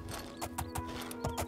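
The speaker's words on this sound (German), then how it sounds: "Pferd." Horse hooves clip-clopping in the video game Oblivion, a quick run of muffled, fairly faint hoofbeats over a steady background hum.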